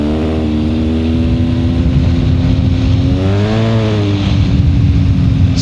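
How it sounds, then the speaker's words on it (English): A Honda CRV drives along a bumpy off-road trail, with a loud, steady engine drone close by and one brief rise and fall in pitch partway through. "Let's go off-roading in our CRV."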